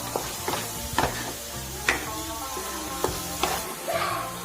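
Chicken masala, coriander powder and garam masala powders frying and being stirred in a pan, a steady sizzle broken by scrapes and taps of a spoon against the pan about once a second.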